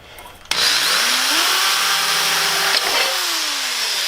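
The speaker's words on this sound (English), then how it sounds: "Now what you're wanting to do is drill 2 holes" A power drill whirs up suddenly and runs steadily for several seconds, its pitch sliding slightly as it bites into a metal canning jar lid, loud and close.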